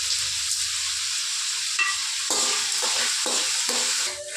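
Chopped tomatoes and onions fry in hot oil in a pan, a steady bright sizzle running throughout, with a spoon scraping and stirring at intervals in the second half; no voices.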